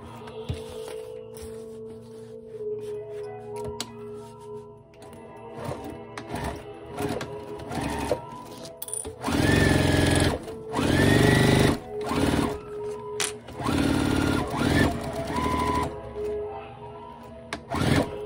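A sewing machine backstitches a fabric car trash bag, running in short bursts of steady whirring that stop and restart, with louder, denser stretches in the second half.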